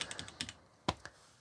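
Keystrokes on a new A1200NET mechanical Amiga-style keyboard with modern non-tactile switches and Amiga keycaps: a quick burst of five or six close, crisp clacks, a pause, then two more distinct presses.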